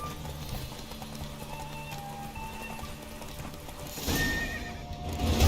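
A horse gallops and neighs in The Witcher 3 game, with steady clip-clop hoofbeats and a whinny over a continuous game background, the hooves growing louder near the end.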